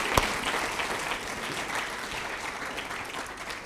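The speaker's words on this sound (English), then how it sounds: "Can you give all of our panellists a big round of applause?" A live quiz audience applauds its panellists, a dense, steady wash of clapping from a moderately sized crowd, with one sharp close clap near the start and no talk over it.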